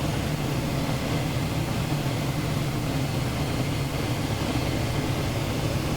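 Sport Cub light airplane engine droning steadily in flight on final approach with flaps out, a constant close broadband hum and rumble without breaks.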